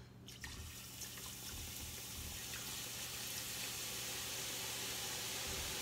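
Liquid batter for boondi ladoo poured from a little height into a pan, a faint steady trickling and hissing stream with no talk.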